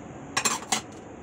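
A utensil clinks against a pot while stirring water, sugar and agar-agar, giving three quick metallic knocks over a quiet kitchen background.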